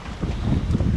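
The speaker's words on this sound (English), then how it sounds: "We got southwest winds around 20 knots, so we finally got some wind" Southwest wind at about 20 knots roars over a sailboat at sea south-southeast of Montauk Point, a loud, steady buffeting rush with heavy microphone wind noise and no talking.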